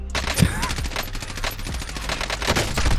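Video game gunfire in the Gulag, rapid bursts of close, loud automatic shots with scattered single cracks, mixed with a voice talking in between.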